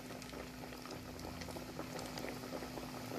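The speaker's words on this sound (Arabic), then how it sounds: "غادي نديرو في الفريتوز يتقلى" Makrout semolina pastries deep-frying in a pot of hot oil, a steady dense bubbling and crackling that holds at an even level throughout, with a faint low hum underneath.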